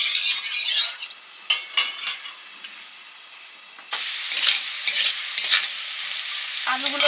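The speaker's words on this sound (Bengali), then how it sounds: "আলু সেদ্ধ হয়ে গেছে, ভেজে নিচ্ছি।" Boiled small round potatoes, peeled, frying in a pan for a village potato curry, with a soft steady sizzle, scraping stirs and clinks of a spatula, a few louder sharp knocks between quieter stretches.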